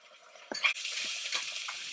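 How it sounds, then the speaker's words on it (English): Two finely chopped medium onions hit a little hot oil in a pan for mutton keema. They sizzle steadily while a utensil scrapes and clinks through a quick stir, all close up with no talk. "Give a quick stir."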